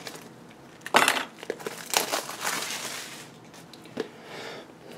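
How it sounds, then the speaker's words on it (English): Plastic wrap crinkles and crunches as it is pulled off an Imation RDX backup cartridge, starting with a sharp tear-like burst, then scattered rustling bursts of varying loudness, close up, with no talking. "unwrap the cartridge"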